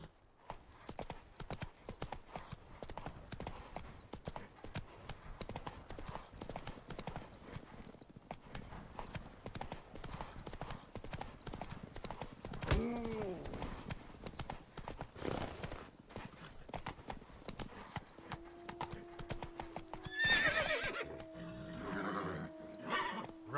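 Roach, the horse in The Witcher 3, clip-clops steadily along, hooves drumming in a quiet, continuous rhythm before a whinny and snorting rise near the end.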